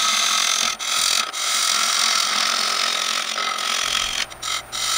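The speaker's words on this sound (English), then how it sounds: "it just didn't seem like it was spinning correctly on the lathe" A wood lathe spins a black walnut bowl while a gouge cuts, producing a loud, steady whirring and scraping with brief dips where the tool lifts off, close by and without speech.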